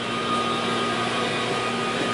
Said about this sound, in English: Oil pan's in the dishwasher. That's what that noise is in the background.